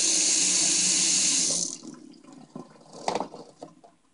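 Hot and cold tap water runs in a strong, loud rush for about a second and a half, then cuts off, leaving scattered drips and small splashes.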